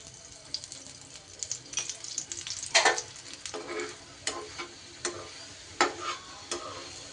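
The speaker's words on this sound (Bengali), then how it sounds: "আর 2 পিঠ এইভাবে লাল লাল করে মুচমুচে করে ভেজে নিতে হবে।" Dough snacks made from wheat flour and paneer frying in hot oil, a steady soft sizzle broken by sharp crackling pops and spatters at irregular intervals, fairly close and moderately quiet with no talking.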